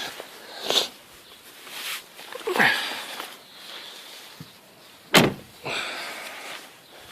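A Mercedes is switched off and its driver gets out, with several rustling movements and a sharp car door thud near the end, followed by further shuffling close by.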